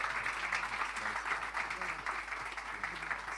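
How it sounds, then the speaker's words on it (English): Audience applause at a film trailer launch event: a soft, steady wash of clapping from a crowd, heard at a distance and fairly quiet, with some faint voices and a low hum underneath. "A big round of applause, ladies and gentlemen."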